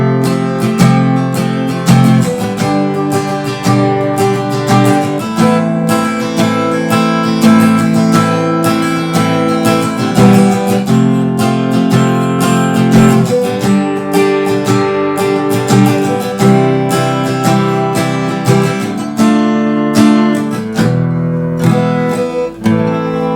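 Taylor GS Mini acoustic guitar with a koa top strummed with a 0.6 mm Dunlop Pro Grip pick, a steady rhythmic pattern of bright chords running for over twenty seconds, loud and close with no talk.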